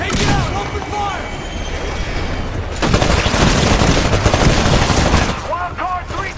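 Rapid automatic gunfire from the Titanfall video game rattles in sustained bursts, loud and close, with explosions and battle noise and brief shouted voices between volleys.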